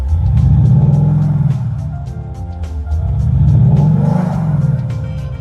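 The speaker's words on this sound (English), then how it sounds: "What about the diesel? Well, you might be expecting that to sound a bit rough," Maserati Ghibli S diesel engine revs twice, each rise swelling to a deep rumbling peak and falling back, loud and close with no talk.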